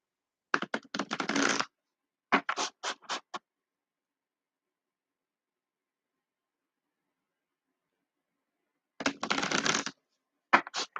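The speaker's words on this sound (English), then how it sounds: "That's why I have to split them, and then I can shuffle them." Two bursts of thick, stiff cards being riffle-shuffled in split decks, a long silent pause, then another riffle followed by a few soft taps.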